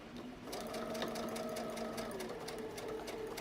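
A home sewing machine stitches fabric for a DIY face mask, starting after a brief moment of quiet and then running as a steady, close whirring hum with a light rhythmic clatter, with no speech over it.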